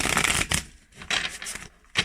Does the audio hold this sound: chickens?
no